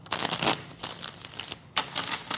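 Tarot cards being shuffled by hand, a series of quick crisp riffling bursts with short pauses between them, close and fairly loud, with no talking.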